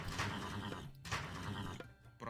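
A horse neighs in the Age of Mythology video game, with two loud, rough whinnying bursts separated by short gaps and a brief final snort, heard close and alone.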